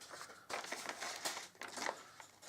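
Scissors snip through card for a panel of a gold-foiled cookie gift box, a close run of crisp, crinkly cuts in uneven bursts with short pauses between strokes.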